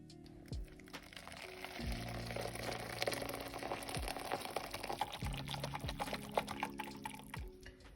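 Soup vegetables, green lentils, chopped potatoes and vegetable stock tipped into a cooking pot, with repeated thuds and tumbling clatter plus liquid pouring over about eight seconds, close and moderately loud, no talk.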